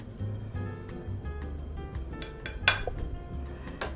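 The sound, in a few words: mixing flour and sugar in a bowl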